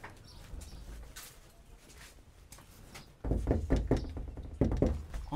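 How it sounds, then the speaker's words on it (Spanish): Knocking on a wooden door, a quick cluster of sharp raps followed shortly by a second burst, fairly loud and close, with no talk over it. "yo te voy a enseñar para cuando tú llegues allá donde la señorita Laura, cómo tocar la puerta"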